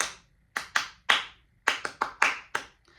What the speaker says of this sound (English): listen really, really closely to what the judge is clapping to you